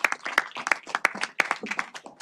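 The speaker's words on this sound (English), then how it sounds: "how about one more big round of applause for all of our Bulldogs of the month" A small crowd claps for the Bulldogs of the month at a school gathering: crisp, separate handclaps in an uneven patter, close and moderately loud, without any cheering.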